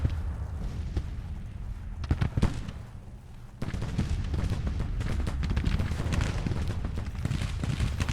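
Rifle fire crackles in the Civil War game Grand Tactician, starting as scattered distant pops and swelling after a few seconds into a dense, continuous rolling volley.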